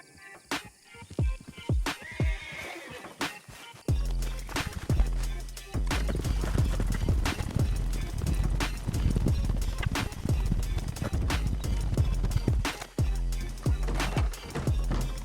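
Horse hooves clip-clop steadily in the Western video game Red Dead Online, a quick repeated rhythm of hoofbeats up close, starting sparse and then running continuously over game ambience.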